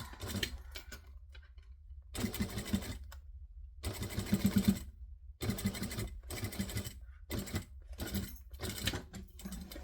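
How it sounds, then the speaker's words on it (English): A sewing machine backstitches fabric in short bursts of rapid mechanical whirring and clicking, separated by brief pauses, close and fairly quiet with no talking. "Backstitch a little bit."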